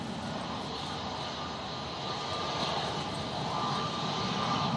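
An easyJet airliner lands at a windy Manchester Airport, its steady broadband engine roar holding loud and constant, swelling slightly toward the end with no voices over it.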